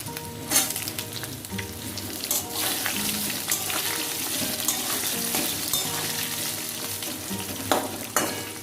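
Cut potatoes fry with bay leaves and cumin in hot oil, a loud continuous sizzle with crackling bursts and occasional stirring scrapes, close up and steady throughout with no talking.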